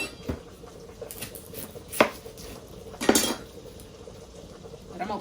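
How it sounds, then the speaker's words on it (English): Knife chopping an onion in a home kitchen while cooking shrimp Alfredo pasta, a few sharp, sparse chops against a quiet background with faint clinks of cookware. "I need to chop up my onion."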